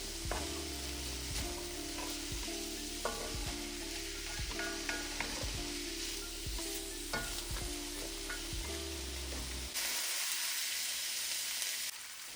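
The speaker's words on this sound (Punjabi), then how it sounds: "ਹੁਣ ਆਪਾਂ ਪਿਆਜ਼ ਬਰਾਊਨ ਹੋਣ ਤੱਕ ਭੁੰਨਣਾ" Onions fry in masala in a pan for masala arbi, a steady close sizzle with scattered spoon scrapes and stirs on top that ends in a louder, brighter hiss.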